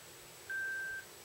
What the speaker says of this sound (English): until a beep is heard